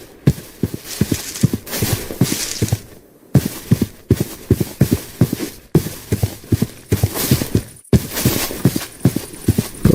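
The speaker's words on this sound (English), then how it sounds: "Got some horses," Horses in the video game Minecraft clip-clopping along at a steady walking rhythm, hoof beats loud and close, continuing in repeated bursts with short pauses and no talk.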